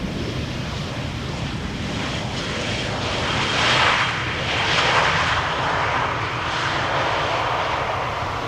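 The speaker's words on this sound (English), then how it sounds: "Now, this is EasyJet A319 arriving from London Gatwick." EasyJet Airbus A319 from London Gatwick arriving at Amsterdam Schiphol, its jet roar a steady broad rush that builds slightly as it passes at moderate distance.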